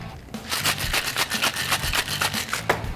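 A dark and stormy cocktail made with 23-year aged Ron Zacapa rum is shaken hard with ice in a shaker, giving rapid, even, rattling strokes close up for a few seconds, with no talk.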